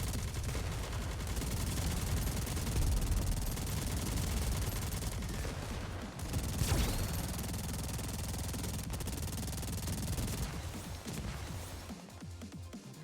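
Sustained gunfire from a mobile shooter game, a dense continuous barrage of rapid shots and crashing impacts that stays loud throughout, with a sharper burst partway through.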